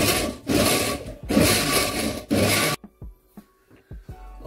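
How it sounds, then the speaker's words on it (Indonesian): A kitchen mixer blending ingredients for salmon soup, three loud whirring bursts separated by short pauses, followed by clattering knocks and light handling sounds once it stops. "Oke ya, kita mixer."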